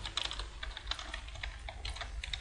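Code is typed on a computer keyboard in quick, uneven bursts of close, crisp key clicks, with no voices over them.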